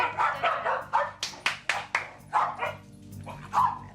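Dogs in a home bark loudly and close in a quick series of about a dozen sharp barks, some overlapping, with a brief whine near the end.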